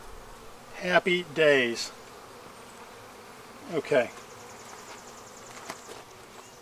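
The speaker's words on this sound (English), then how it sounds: "Okay, and this is another frame packed with bees." Honey bees buzz steadily around an open Flow Hive while a beekeeper works the frames, a soft, constant hum under brief bursts of close speech.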